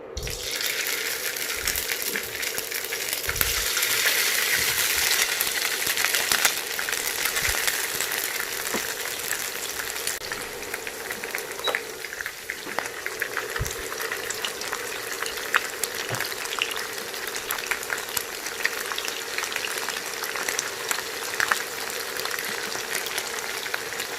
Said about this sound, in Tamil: இன்றைக்கி நல்லா டீப் ஃப்ரை பண்ணுறதுக்கு பதிலாக கொஞ்சமாக எண்ணெய் விட்டு நம்ம பொரிச்சிக்கலாம், ஷாலோ ஃப்ரை மாதிரி.